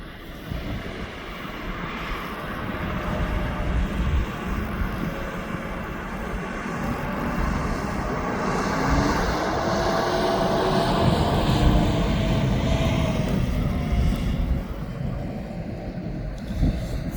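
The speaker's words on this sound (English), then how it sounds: "the first plane looks like it's going to land at Birmingham International" An airplane drones overhead near East Midlands Airport, a broad steady roar of jet engines that swells gradually and holds for the whole stretch, heard from a distance outdoors.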